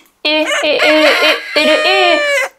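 A child's or teacher's voice imitates a rooster crow in a Turkish first-grade lesson on the letter ü, with two loud, close, drawn-out crowing calls, the second rising after a brief break.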